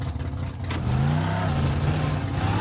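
A car engine in the sandbox game Teardown drives and revs, its tone climbing and holding steady at a fairly loud, continuous level with no talking.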